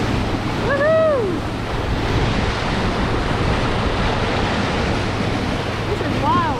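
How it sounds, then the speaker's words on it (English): Boat wake waves rolling in and breaking at the Southport Seaway on the Gold Coast, a steady broad wash of surf with wind buffeting the microphone and a brief high whistle-like call rising over the water. "The waves are coming in from a boat."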